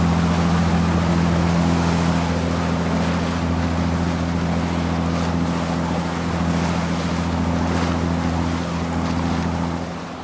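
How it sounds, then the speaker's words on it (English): Waves wash against a small boat crossing the Strait of Georgia, making a continuous, loud rushing noise over a low, steady engine drone. "the waves are hitting us"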